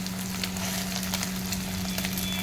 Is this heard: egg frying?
yes